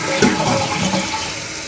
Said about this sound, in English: I'll give it a test flush.